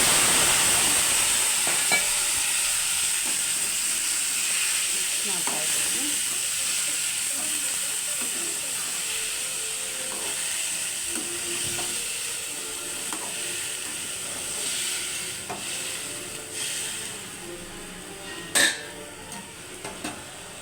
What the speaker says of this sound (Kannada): ಸಾಸಿವೆ ಚಟ್ಪಟ ಅಂತ ಸುರಿದಿದೆ